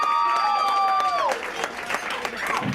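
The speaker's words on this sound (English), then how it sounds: "How about a warm round of applause for Danielle?" Wedding reception guests break into applause and light cheering at moderate volume, with a sustained vocal whoop at the start that fades into scattered clapping.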